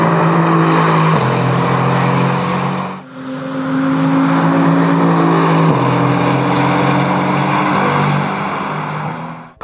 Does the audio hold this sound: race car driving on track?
yes